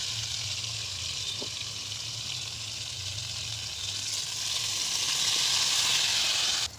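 Fried pointed gourd sizzles in a pan as a mustard and green chili paste goes in, a soft hiss that swells louder and brighter toward the end before cutting off abruptly.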